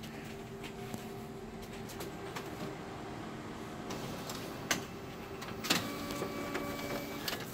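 Konica Minolta Bizhub C454e copier running a test chart print job, a steady mechanical hum with faint ticking and a few sharper clicks and clacks from the paper feed, moderately close with no talking.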